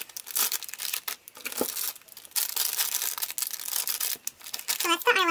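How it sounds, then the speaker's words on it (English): Crinkly plastic packaging around eyelash trim yarn rustles and crackles almost nonstop, close and fairly loud, with a voice speaking briefly near the end. "Sorry about the crinkling."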